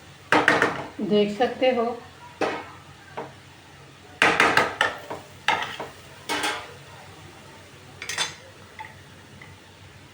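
Potato and cauliflower being stirred in a pan for a Sindhi-style dish: repeated scraping and clattering strokes in short bursts, with a person speaking briefly.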